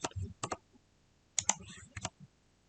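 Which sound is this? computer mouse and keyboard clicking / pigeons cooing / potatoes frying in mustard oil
computer mouse and keyboard clicking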